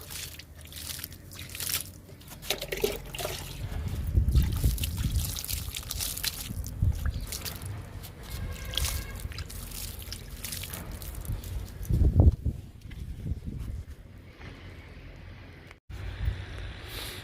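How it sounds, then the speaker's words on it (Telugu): Water splashing and trickling onto rose and chrysanthemum plants and soil in uneven bursts, with rustling and handling noises close by. "చామంతులకి వాటర్ ఇస్తున్నా."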